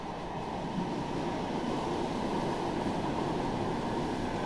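A steady, broad rumble of a train passing by, continuous and moderately loud throughout with no voices.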